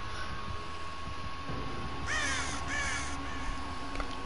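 Crow cawing in the horror game Dead by Daylight: two harsh, close caws in quick succession midway through, standing out over a steady low game ambience.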